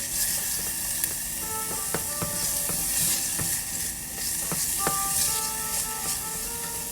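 Garlic and onion fry in a small amount of oil, a steady sizzle with scattered crackles and pops from the pan, close and alone without talk.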